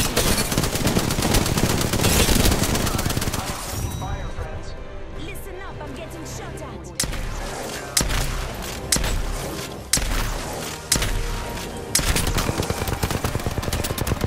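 Gunfire in the battle royale game Apex Legends: several seconds of dense, rapid automatic fire, then a run of louder, spaced shots and short bursts over a busy in-game background.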